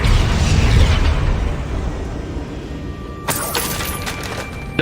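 A Confringo blasting spell explodes in Hogwarts Legacy, a loud, dense rumbling blast that fills the clip. A sharp crackling burst hits about two-thirds of the way through, and no voices are heard.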